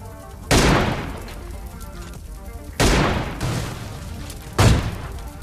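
Gunfire from a video game match rings out in three sharp, loud bursts spaced a couple of seconds apart, each decaying with a short echoing tail, plus a lesser burst between the second and third.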